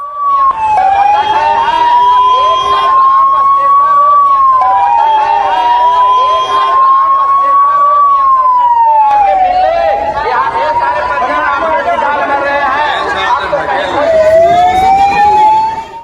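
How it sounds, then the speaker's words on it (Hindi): Ambulance sirens wail loudly and close, rising and falling continuously as the vehicles race from the Ashok Dham temple in Bihar toward the hospital after a stampede. Crowd noise and voices run underneath throughout. "मौके पर एम्बुलेंस बुलाई गई, एम्बुलेंसेस दौड़ना शुरू हुई अशोक धाम से अस्पताल की तरफ"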